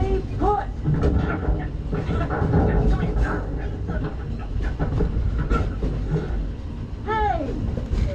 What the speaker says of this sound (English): Oh, Peter, that's not a snake. It's a train